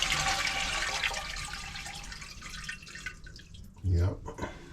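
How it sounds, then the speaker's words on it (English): A toilet is flushed to empty it, rushing and draining water close by under a voice, fading into gurgles with a brief low thump near the end. "let me just empty out this toilet"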